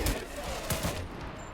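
Rusty AK rifle firing in the Active Matter video game, a few quick close shots with a short pause between bursts, loud and sharp against a noisy backdrop.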